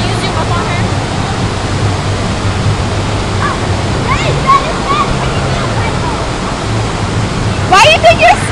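Steady rushing water from a surf simulator's artificial wave roars continuously up close, with a brief louder splash near the end and voices shouting over it.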